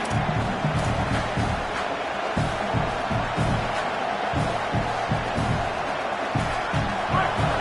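A football stadium crowd in a college football video game roars steadily throughout, a dense continuous din with rhythmic thumps and shouts underneath, loud and unbroken.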